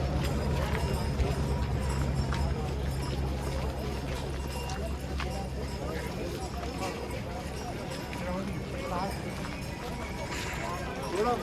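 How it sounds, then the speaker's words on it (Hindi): Horse hooves clip-clop on the Kedarnath pilgrimage trail in a continuous busy patter, with voices talking over it and steady outdoor bustle behind. "घोड़ा"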